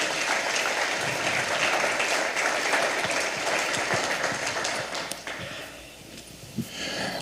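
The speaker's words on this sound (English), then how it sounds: "how about another round of applause?" Audience applause fills a Hall of Fame awards banquet, a steady wash of clapping from a crowded room that thins out and fades toward the end.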